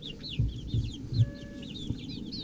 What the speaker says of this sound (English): Come here, chickens.